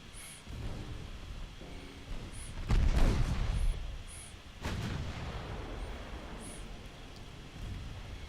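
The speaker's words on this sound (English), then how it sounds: "I would like to fire the main guns at you and the secondary guns at you" Warship main guns firing in the naval battle game Ultimate Admiral Dreadnoughts, deep rumbling booms rolling out over a low ambient bed, one heavy blast standing out midway followed by a lingering rumble.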